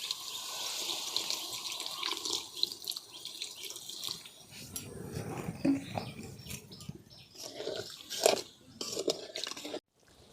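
Water is poured into a pan of simmering aloo dum potato curry, a soft, splashy trickle and gurgle that comes in uneven bursts, fairly quiet and close, with a brief clatter near the end.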